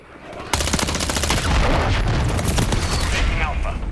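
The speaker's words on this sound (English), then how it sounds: "Friendly cruise missile deployed." Rapid bursts of automatic gunfire mixed with a heavy missile-strike blast in a Modern Warfare 3 match, starting abruptly and staying loud and dense throughout.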